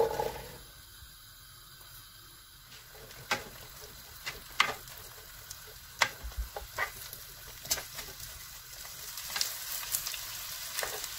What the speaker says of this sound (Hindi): पाँच से सात मिनट प्याज को भूनना है जब तक इसका कलर चेंज होता है।